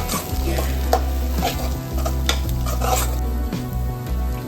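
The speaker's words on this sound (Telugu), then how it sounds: "అందులోకి తగినంత కారం పొడి, తగినంత ఉప్పు వేసుకొని మంచిగా కలుపుకోవాలి" Egg curry sizzles in a pan as chilli powder and salt are stirred through it. A spoon scrapes and clinks continuously over a loud frying hiss, with a low steady hum underneath.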